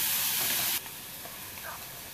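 Bell pepper frying in butter with onion and green chillies for pav bhaji: loud steady sizzle that drops suddenly to a quieter, softer crackle partway through.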